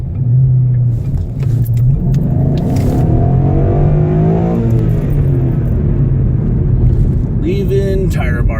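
A car accelerates hard close by, its engine a loud, continuous rumble that rises in pitch and holds for several seconds.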